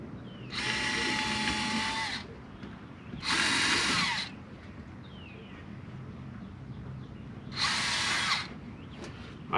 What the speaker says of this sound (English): I only got a drill with a drill bit so I don't split the wood.